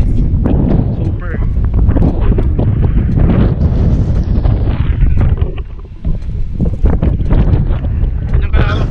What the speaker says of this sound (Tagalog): Medyo hindi nyo maririnig dahil napakalakas ng hangin dito guys